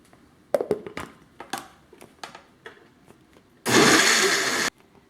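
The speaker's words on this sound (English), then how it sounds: "let's blend it until it's very finely ground" Blender grinding boiled tomatillos, cilantro and garlic into a thick green salsa for tamales verdes, a loud steady whir lasting about a second near the end, after a run of light taps and clinks.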